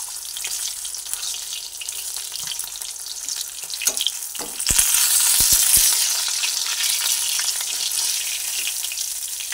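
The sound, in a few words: fish frying in oil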